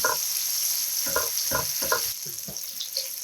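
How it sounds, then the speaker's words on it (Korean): Sliced onion stir-fried briefly in a hot pan for a spring cabbage and spaghetti dish, giving a steady close sizzle broken by several rhythmic scraping stirs, with no talking. "양파 넣고 아삭하게 살짝 볶아준 후"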